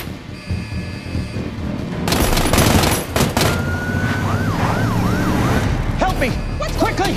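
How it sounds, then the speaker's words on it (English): A rapid burst of gunfire cracks loudly amid commotion, with sirens wailing and rising and falling around it, and voices shouting, in a scene from the TV series S.W.A.T. "Is that gunfire?"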